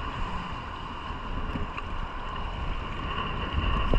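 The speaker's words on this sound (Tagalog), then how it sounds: "Hangin na pati." Strong wind buffets across open sea water on an ultralight fishing trip from a small boat, a steady, close rushing roar with low rumbles and no voices.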